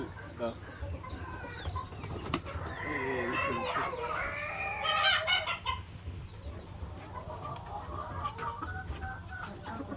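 Chickens cluck and call loudly in the middle of the clip, with a rooster-like cry among them, over steady low rumbling background noise.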